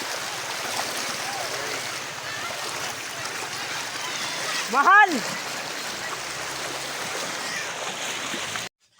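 Steady broadband rush of river water flowing during a rural river crossing, constant throughout with a brief louder splash midway and a short shout over it.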